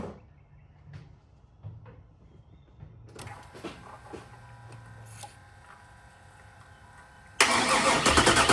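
A rebuilt 385ci LT1 V8 with AFR heads in a 1996 Impala SS cranks in a garage after scattered clanks and shuffling, then fires up loudly near the end and settles into a rough, heavy idle.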